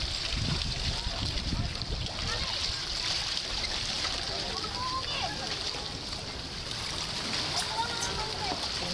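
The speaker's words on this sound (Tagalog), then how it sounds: "lakas talaga ng alon." Strong waves splash and slosh along a shore during high water, a continuous loud rushing wash with bursts of spray while people talk over it.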